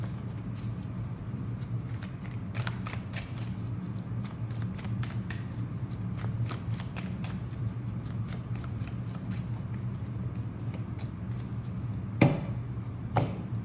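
A brand-new, glossy tarot deck being shuffled by hand gives a steady run of crisp, riffling card flicks, close and moderately loud, with no talking and two sharper slaps near the end.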